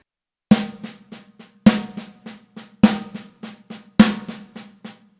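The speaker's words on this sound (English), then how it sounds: "So you can start off by accenting the downbeats" Drum sticking pattern with a loud accented stroke roughly every second, quieter ghost strokes filling between, played alone at an even tempo.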